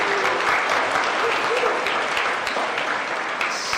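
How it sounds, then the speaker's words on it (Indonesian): A church congregation applauds the Credo parish choir at a Christ the King feast Mass, a steady dense clapping from a large crowd that carries evenly throughout without a break. "kita berikan tepuk tangan sekali lagi"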